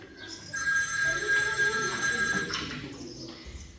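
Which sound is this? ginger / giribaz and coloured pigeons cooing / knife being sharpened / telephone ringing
telephone ringing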